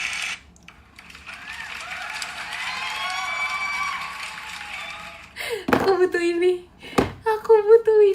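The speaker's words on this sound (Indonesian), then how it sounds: "Soundboard tepuk tangan" Soundboard applause effect on a livestream, a sustained patter of clapping rising in the middle, followed by a voice speaking over brief noises.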